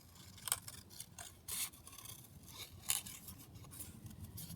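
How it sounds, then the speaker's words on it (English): Scissors cutting out a small paper flower piece of ephemera for a junk journal, several close, crisp snips and rustles of paper in quick succession, quiet and alone. "So let me just chop out or cut out this one."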